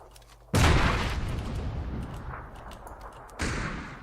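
Gunfire in a duo shooter video game: a sharp, close blast starts a long ringing decay, and a second, weaker shot follows near the end. No one speaks.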